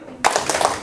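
Hands clapping in a classroom clapping game, a quick burst of sharp claps that starts suddenly after a short quiet moment, close and loud, with a fresh clap at the very end.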